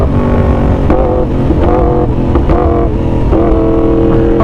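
A loud car engine with a new aftermarket exhaust revs in repeated surges, each rise in pitch followed by crackling exhaust pops, close and continuous with no talking.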